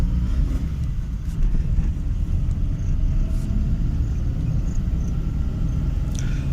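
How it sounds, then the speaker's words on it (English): A first-generation Maruti Suzuki Alto hatchback pulling away in first gear, its small engine giving a steady low rumble heard from inside the car, constant and fairly loud with no talk. "now we will feel this engine from behind the wheels. First gear, again drafting the motor, and here we go"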